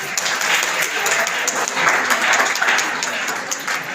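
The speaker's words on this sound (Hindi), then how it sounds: "चाहूंगा उनका भी स्वागत ताली बजा के करें।" Audience applause at a Class 12 school farewell ceremony in Rajim, a steady dense wash of clapping from a gathered crowd lasting several seconds, fairly loud and close.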